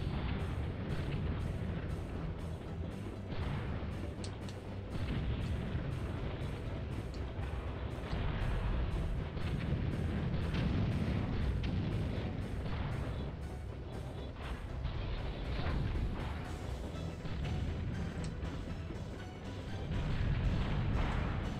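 Tanks firing and explosions in the N64 game BattleTanx: Global Assault, a dense, continuous barrage of booming blasts and rumbling impacts layered loudly over one another.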